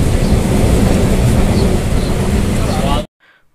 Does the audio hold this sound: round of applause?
no